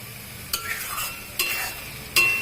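Spiced potatoes being stirred in a hot pan with oil, three distinct scraping stirs against a steady close sizzle of frying masala, no voices.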